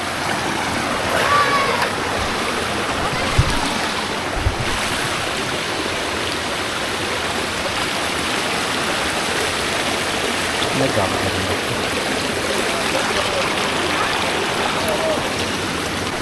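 Continuous rushing of flowing water, a steady broadband wash close by, with a couple of faint knocks and no clear voices.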